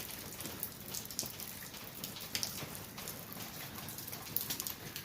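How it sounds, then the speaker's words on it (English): Steady rain pours down outdoors in a heavy shower, a dense, even hiss of drops striking surfaces with scattered louder splats throughout and no voices. "Lots of rain coming down, Bubba."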